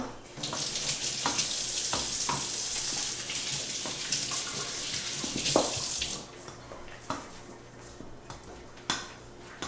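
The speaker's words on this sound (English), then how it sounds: "And wash my hands again." Hands are washed under a running kitchen tap, water streaming loudly for several seconds with splashes and clatter, then tapering off.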